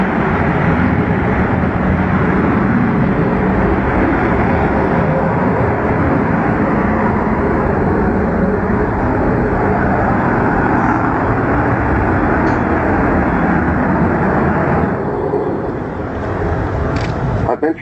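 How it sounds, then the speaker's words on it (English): Avro Vulcan XH558 bomber, the first B.2 version of the type, roaring continuously through a display flight at RIAT, a loud sustained broadband engine rumble that stays steady throughout with no break. "This particular aeroplane was the first B-2 version of the bomber"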